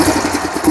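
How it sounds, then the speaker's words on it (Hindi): Royal Enfield Bullet 350 engine fitted with a Patiala silencer, idling with a steady low thumping exhaust throb, close and fairly loud with no voices over it. "सबसे पहले आप इंजन की साउंड सुनिए इस गाड़ी की, जो इंजन की साउंड है वो किस तरीके की है।"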